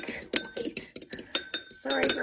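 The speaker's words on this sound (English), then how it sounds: "So what you're next going to do is just lightly beat these egg white." A small whisk beats a single egg white in a bowl for thumbprint cookies, giving quick irregular clinks and scrapes of metal on the dish with brief pauses between bursts.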